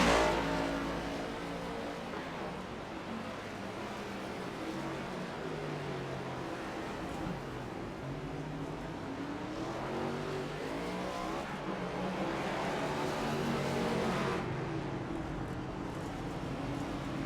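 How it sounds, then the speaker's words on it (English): Race cars at Circuit of The Americas in a Donut Box Cup Series road race, engines droning and revving continuously as the field runs late in the event, with a brief swell of passing cars near the end. "Alex Tilley coming across the start-finish line with 2 laps to go."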